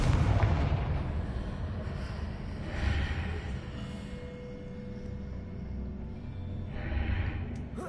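A Confringo fire spell blast from the Hogwarts Legacy video game: heavy, rumbling explosive bursts around the start, middle and end over a continuous low roar, loud and close.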